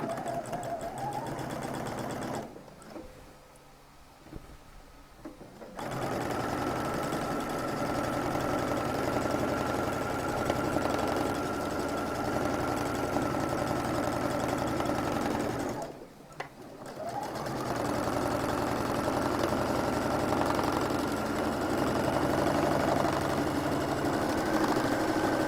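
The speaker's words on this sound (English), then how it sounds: "I'm going to run a little top stitch just on the other side so it all matches" A domestic sewing machine runs a top stitch along a shirt collar, a steady close mechanical whir that cuts out briefly twice, once for about three seconds and once for a moment, then resumes at an even pace.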